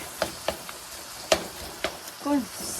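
Seafood with corn and onion stirred in a pan, heard as a soft sizzle broken by a few distinct sharp taps and scrapes of a utensil against the pan, with a brief voice near the end.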